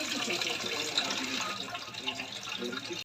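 Water poured into a pot of chicken tinola broth, a continuous close splashing stream that stays steady for about three seconds.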